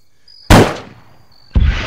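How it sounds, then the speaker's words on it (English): Two loud, close explosions in the Arma 3 military shooter, each a sudden blast with a rumbling tail, about a second apart, over a faint high electronic tone. "Did you fire that right now and that explosion happened?"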